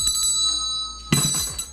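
A bell kept in a mechanic's tool box is struck once, giving a bright, loud ring that decays over a steady high tonal ringing.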